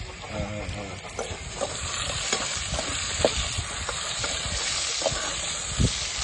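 Potatoes fry in a pan for a squid curry, giving a steady close sizzle and hiss with occasional scraping stir clicks throughout.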